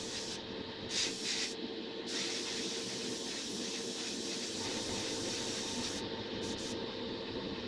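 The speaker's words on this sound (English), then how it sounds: "dust off the part, and I'll go in my light mist to start with" Airbrush spraying a light mist of Badger Stynylrez polyurethane primer onto a part, a continuous close, even hiss that carries on throughout with a few brief breaks in the spray.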